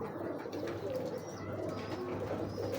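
High flyer pigeons coo softly and steadily in low, throaty murmurs, several birds overlapping close by with no voices.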